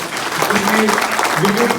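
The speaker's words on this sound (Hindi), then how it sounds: "एक बार जोरदार खुद के लिए ताली बजाओ।" Live audience at a Hindi comedy show claps for themselves in a brief burst of dense applause, with voices and chatter mixed in over the clapping.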